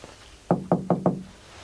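Four quick, close knocks rap on a bedroom door in an even rhythm, sharp and resonant against a quiet room.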